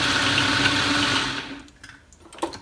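A blender whirs steadily and loudly while blending a thick green vegan smoothie bowl, then cuts off. Soft clatter and handling noises follow in a quiet kitchen.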